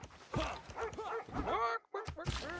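Dogs in a video game let out rapid, overlapping barks and yelps, loud and close, in a dense burst with a brief gap near the end.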